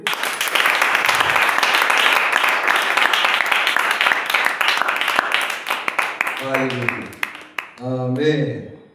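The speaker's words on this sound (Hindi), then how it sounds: "ताली बजाइए।" A congregation at a Christian worship service breaks into dense, loud applause that carries on steadily for several seconds, then thins as a voice rises over the last moments.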